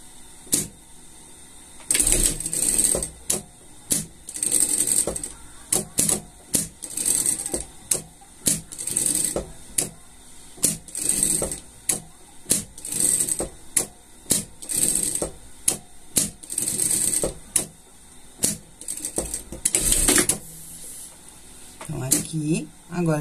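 A sewing machine stitches a seam around the sole of a small pet slipper, running in short repeated bursts with brief pauses between them, close and moderately loud, with no voices.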